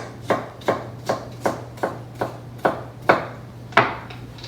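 A knife cutting slices on a wooden board while seeded peppers are prepared for Southern cornbread, nine crisp, evenly paced chops, close and clear over a low steady hum.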